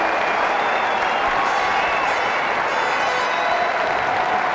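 A cricket crowd at a 2002 New Zealand versus England Test rises to its feet and applauds, sustained loud clapping and cheering filling the ground without pause.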